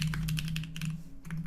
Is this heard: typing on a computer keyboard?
yes